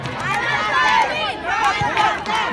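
Cheering squad at a basketball finals game shouts in support of its team, a loud, steady wall of crowd voices and chants filling the arena without a break.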